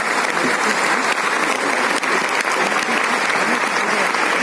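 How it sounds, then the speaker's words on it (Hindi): Loud, sustained applause fills an auditorium at a CPWD foundation day event, a dense crowd clapping continuously throughout without letup. "ये समय है कि हम बहुत ही जोरदार तालियों से आइए इस सभागार को"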